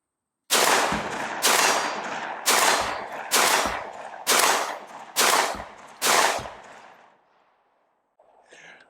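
A Franchi SPAS-12 shotgun fires buckshot in semi-automatic mode, with seven loud, close blasts at a steady rapid pace, each ringing briefly before the next, followed by a quiet tail and a faint voice.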